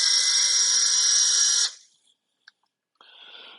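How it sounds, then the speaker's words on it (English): Small electric screwdriver removing the truss rod cover screws from a guitar, a high steady whirring buzz for about a second and a half that stops abruptly, followed by a faint click and a short, quieter second whir. "this little electric screwdriver"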